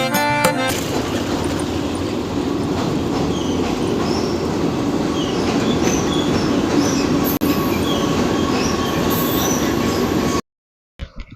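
A passenger train runs on rails near Tikiyapara station in Howrah district, a steady, loud rumble with clattering wheels and faint squeals that continues for about ten seconds before the sound cuts off abruptly.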